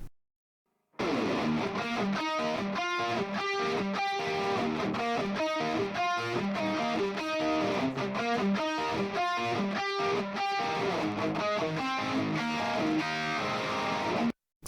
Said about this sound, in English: same riff with distortion